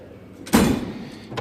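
A Snap-on tool box drawer slides open with a sudden loud metallic rolling whoosh that fades over about half a second, followed by a small clack near the end.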